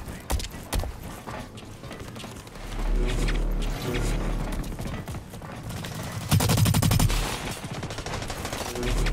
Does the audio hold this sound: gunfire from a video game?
yes